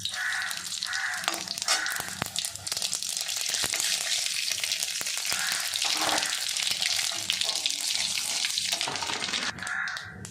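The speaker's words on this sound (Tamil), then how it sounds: "எண்ணெய் காஞ்சிச்சு, வாங்க கடுகு உளுந்து போட்டுக்கலாம்." Mustard seeds and urad dal fry in hot oil in a South Indian kitchen, a loud steady sizzle with scattered pops and crackles running throughout.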